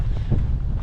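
Strong gale-force wind on a Scottish mountain summit at 1080 metres, a loud continuous low roar buffeting the microphone, unbroken through the moment.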